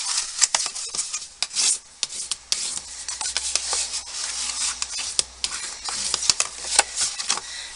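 Folded score lines on a card base get burnished, giving close, dry rubbing and scraping strokes in irregular bursts with sharp ticks between them, with no voices.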